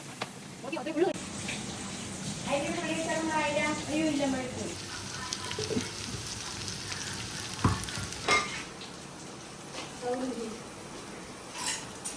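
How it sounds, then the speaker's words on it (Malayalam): Marinated fish frying in a pan in a home kitchen, a steady sizzle with occasional clinks of utensils, heard beneath voices talking. "ഇനി നമ്മൾ ഫിഷ് ഫ്രൈ ചെയ്യാൻ പോകും."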